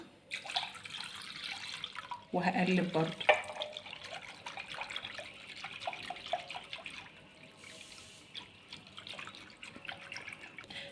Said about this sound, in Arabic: هننزل بقى بكوبايه ميه ساقعه